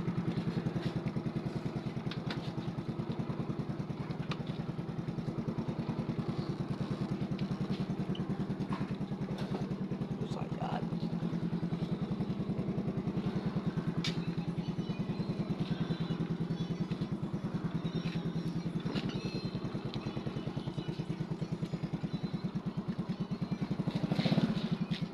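A motorcycle engine idles steadily and close by for the whole stretch, a continuous low rumble with light mechanical clatter and a small rise near the end.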